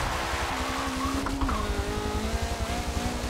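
A wide-body MK5 drift car in a racing game, its rotary engine droning at steady revs with a faint flutter and a brief pitch drop mid-run, tire noise running underneath.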